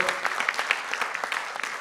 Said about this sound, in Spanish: Este aplauso para todos vos, os podéis aplaudir vosotros, eu tamén vos aplaudo.